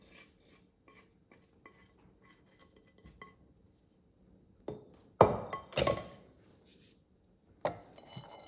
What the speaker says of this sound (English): get the rest of the batter, dough, out of my bowl